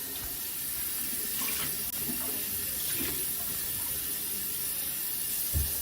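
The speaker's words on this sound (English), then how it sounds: "You just wanna rinse it with cool water and squeeze." Tap water runs steadily into a sink while a wool sweater is rinsed in cool water, a continuous close hiss with a small splash near the end.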